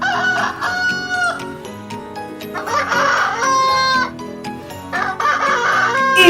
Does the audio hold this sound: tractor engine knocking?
no